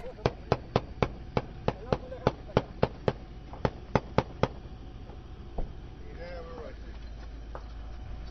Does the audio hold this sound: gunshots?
yes